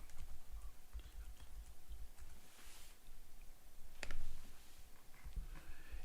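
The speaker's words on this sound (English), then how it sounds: "And now let me go up and type in the word protocols." Quiet clicking of keys as a word is typed on a computer keyboard, a sparse, irregular run of light taps with a couple of firmer strokes, no speech.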